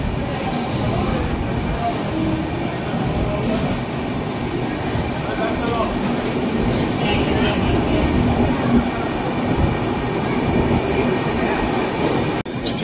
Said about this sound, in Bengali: ট্রেন আমাদের ছেড়ে যাচ্ছে উলুবেড়িয়া স্টেশন